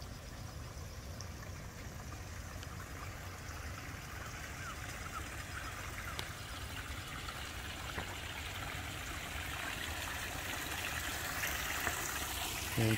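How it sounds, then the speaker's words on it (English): Water trickles and flows steadily in a large water feature of a Japanese garden, set among stone paths and surrounded by stone and cement pots beside a lake; a soft, continuous wash at moderate distance, with no talk. "And here we have this large water feature"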